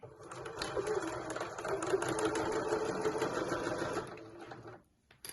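A sewing machine stitching a seam on a pack-away shopping bag, running at a steady whirring, rattling pace for about four seconds before stopping, close up, followed by a brief clunk.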